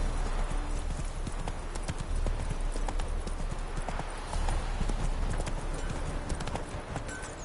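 Roach, Geralt's horse in The Witcher 3, gallops with a steady, rapid clip-clop of hooves up close, set against a dense rushing background.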